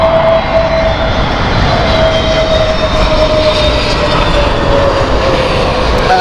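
A British Airways airliner at Heathrow Airport roars loudly and steadily, a broad engine rumble with a faint high whine holding throughout, with no voices.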